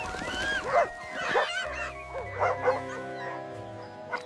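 Small dogs yip and bark in short excited bursts with whimpering, several voices overlapping at close range over a low background hum.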